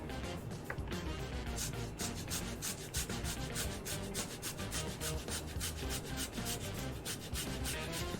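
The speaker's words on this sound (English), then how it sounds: "So, skin and all, just grind in this little knob of ginger into this." A knob of ginger, skin on, is ground against a grater in quick, even rasping strokes, close and fairly quiet, with no talking.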